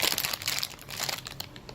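A plastic package crinkles close and quietly for under two seconds in a steady rustle of small crackles, with no talking.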